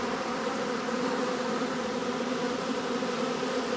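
Honeybees buzz in a dense, steady drone right beside the hive as they make orientation flights, close and continuous with no talking.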